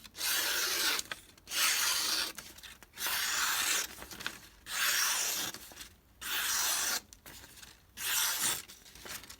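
A Cruwear steel knife slicing quickly through material in a cutting test, with six or seven even, rasping strokes in a steady rhythm, each about a second long with short gaps between, close and moderately loud with no talk.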